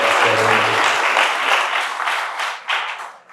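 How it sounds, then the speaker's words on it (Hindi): An audience at a Guru Purnima gathering gives warm applause, full and steady at first, then thinning and tapering off toward the end, with a voice faintly heard at the start. "तालियों से अभिवादन करेंगे"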